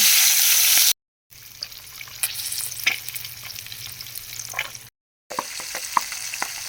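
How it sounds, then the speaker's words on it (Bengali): Pabda fish frying in hot oil in a wok, a continuous crackling sizzle with scattered sharp pops, close up, interrupted by two brief silent cuts. "কড়াইতে তেল গরম হয়ে গেছে, এখন আমি মাছগুলো একে একে দিয়ে দেবো ভাজার জন্য"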